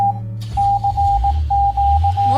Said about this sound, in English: EAS alarm.